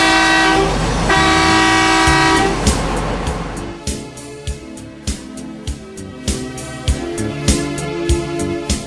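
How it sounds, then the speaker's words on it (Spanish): A Caterpillar 797 mining truck sounds its horn twice when pulling away from the fuel pump, with loud, close sustained blasts over heavy diesel engine rumble, followed by rhythmic mechanical clanking. "Para salir desde la bomba de combustible, toque 2 bocinazos, con lo cual indicará que va a ir hacia adelante."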